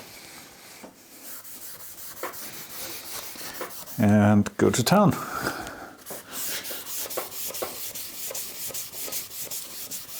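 A gray Scotch-Brite pad scrubs a machined metal surface of a Deckel rotary table with a steady, gritty rubbing. A brief, louder stretch of scrubbing stands out as someone talks over the sound.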